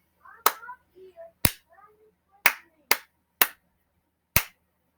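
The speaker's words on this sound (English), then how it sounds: "I'm going to clap." Six sharp, close hand claps land in a steady counting rhythm, with a voice speaking softly between the first few.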